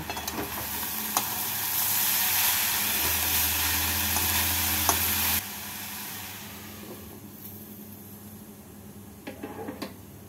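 Shrimp and green chillies sizzle in a hot pan while being stirred, a steady, fairly loud frying hiss that drops off abruptly partway through, leaving quieter crackles and a few scraping clinks.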